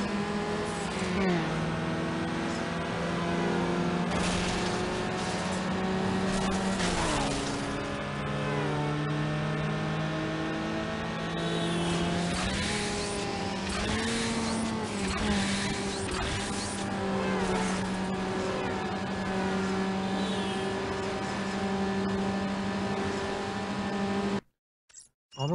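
A race car engine in Need for Speed Underground revs hard and climbs in pitch, dropping back at each gear shift, loud and steady for the whole stretch.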